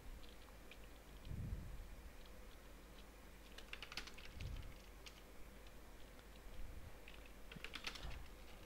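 Typing on a computer keyboard at a desk, with scattered bursts of key clicks and clatter over a low room hum, fairly faint and with no talk.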